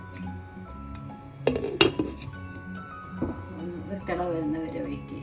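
A pot of bottle gourd and red bean curry gets stirred, then a lid goes on with a few sharp metallic clanks and clinks amid softer scraping, while a voice talks over part of it.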